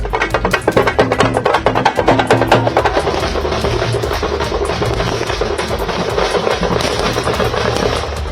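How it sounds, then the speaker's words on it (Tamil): Firecrackers burst in dense, rapid volleys at a political welcome celebration for a chief minister, loud and continuous at first, then settling into a steady roar of crackling. "முதலமைச்சர் மு.க.ஸ்டாலினுக்கு பட்டாசு வெடித்து மலர் தூவியும் உற்சாக வரவேற்பு அளிக்கப்பட்டது."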